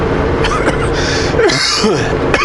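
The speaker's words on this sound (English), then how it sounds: "Got a bit of a cough." A person coughs a few times in short, harsh bursts close to the microphone, with a steady vehicle rumble underneath.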